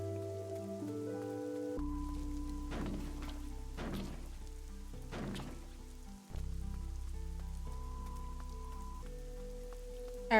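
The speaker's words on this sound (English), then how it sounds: "But I like the rain." Steady rain falls in the video game Fall of Porcupine, a soft continuous wash beneath sustained musical tones, broken by a few brief heavier thuds partway through.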